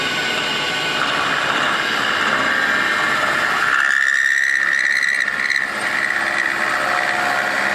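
Milling machine plunging straight down to clearance a BBC Brodex Big Brodie cylinder head for pushrods, a steady machining drone that shifts into a sharp high squealing cut midway, then eases back, close and loud.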